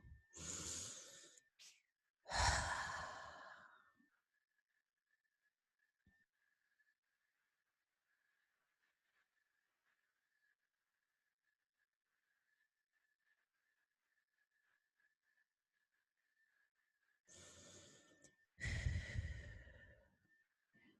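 Slow, deep breathing during a guided healing meditation: a long inhale and sighing exhale, then near silence with a faint hum, then another close, airy breath pair.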